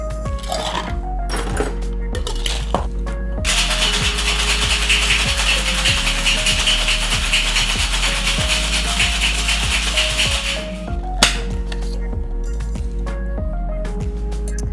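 A non-alcoholic margarita is shaken hard with ice in a cocktail shaker, a dense continuous rattle lasting several seconds, loud and close, framed by clinks and handling knocks before and after.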